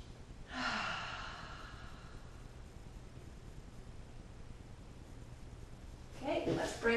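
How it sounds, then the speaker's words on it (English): Deep breaths during a floor stretch in a no-equipment core workout: one long, airy exhale near the start, then quiet, and another breath near the end, close to the microphone. "Breathing nice and deep."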